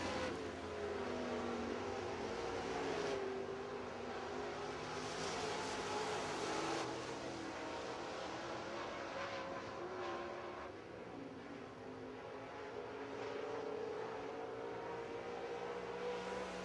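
Race cars lap Pennsylvania Motor Speedway near Pittsburgh on the final lap, a distant, steady engine roar that swells and fades as cars pass, heard faintly without talk.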